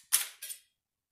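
An AKM rifle's action is dry-fired in a control shot: one sharp metallic click of the hammer falling, followed a moment later by a softer second click, close and alone.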